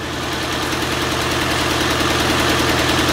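A 1950 Farmall Cub tractor engine idling steadily after a hand-crank start, a loud, close, even mechanical chug with a fast rhythmic pulse and no voices.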